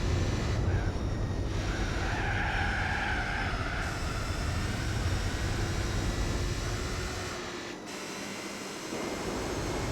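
A Mercedes 300 SL engine in Gran Turismo 4, revving hard as a continuous racing drone with a faint whine riding on top, steady and loud, and it dips briefly near the end.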